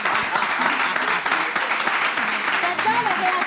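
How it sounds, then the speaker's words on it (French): An audience applauds at a live comedy radio show, steady clapping with a voice talking over it near the end. "Il faut applaudir d'abord"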